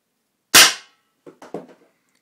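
A Flasc TM-15 paintball marker fires one sharp, loud pop up close, followed by a few quieter mechanical clicks and rattles as it cycles and settles.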